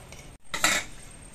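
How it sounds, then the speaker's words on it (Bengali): A utensil scrapes and clanks against a pot while khichdi is stirred and mixed, one short metallic scrape rising after a brief silence, close and moderately loud. "এবার সবকিছু দিয়ে খিচুড়ির সঙ্গে একটু নেড়ে চেড়ে মিশিয়ে দিয়ে দিচ্ছি"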